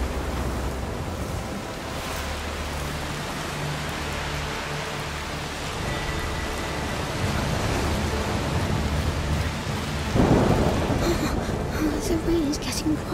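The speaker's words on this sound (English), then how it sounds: "The rain is getting worse. It's just a storm." Heavy rain in the video game A Plague's Tale: Requiem, a continuous hiss of downpour with low rumbling beneath and a louder swell near the end, while voices talk over it.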